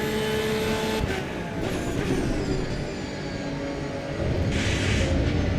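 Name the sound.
car bouncing off rumble strips in video game Assetto Corsa EVO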